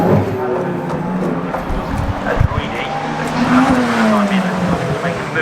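A Ferrari race car races at Brands Hatch during Festival Italia, engine note rising and falling with a passing surge, under commentary.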